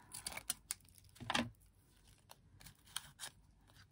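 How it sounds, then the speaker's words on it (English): Quick snips and crisp paper rustles from small fine-tipped craft scissors at close range, a handful of irregular cuts with short pauses between them. "cutter bee scissors for fussy cutting"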